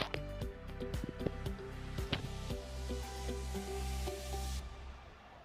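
Potatoes, matar dal and tender dheki greens being sautéed in a pan with a little water, with a soft continuous sizzle and repeated scraping and clinking of a spatula against the pan, close and moderately loud.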